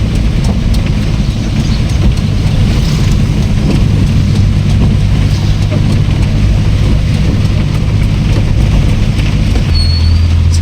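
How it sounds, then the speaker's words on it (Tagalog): Heavy rain pours in a loud, constant roar that fills the whole stretch without pause, with a low rumbling hum underneath. "Grabe yung ulan, napakalakas."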